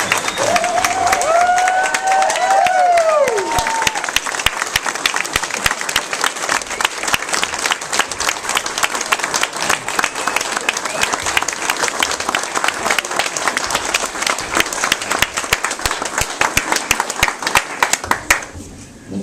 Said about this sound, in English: give Jim a rousing round of applause